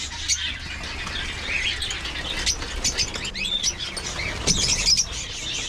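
African lovebirds in an aviary, a busy mix of high chirps and tweets with bursts of wing flapping, close and continuous throughout.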